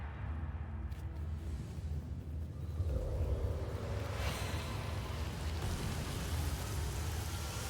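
A rain spell in the video game Divinity: Original Sin pours down as steady hissing rainfall over a low rumbling bed, thickening after a few seconds into a heavier downpour.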